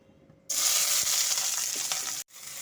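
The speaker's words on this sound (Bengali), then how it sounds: "ওর মধ্যে আমি ক্যাপসিকামগুলোকে একটু হালকা ভেজে নেব।" Capsicum lightly frying in about one and a half spoons of white oil, a steady bright sizzle that starts abruptly, holds loud and close for nearly two seconds, cuts out briefly, then resumes.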